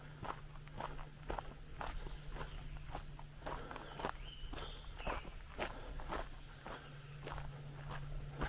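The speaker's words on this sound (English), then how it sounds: "There's something big running in the woods." Heavy footsteps of something large running through woodland, a steady series of thudding steps at close to moderate distance over a constant low hum, with no talking.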